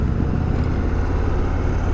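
Indian Chieftain Dark Horse motorcycle being ridden, a steady, loud engine drone with low rumble and wind noise held evenly throughout, no talking.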